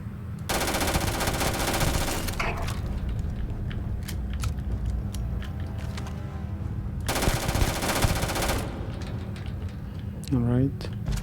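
Automatic gunfire in the sci-fi video game Starfield: two long, loud sustained bursts of rapid fire separated by a lull, with a voice heard faintly in the background.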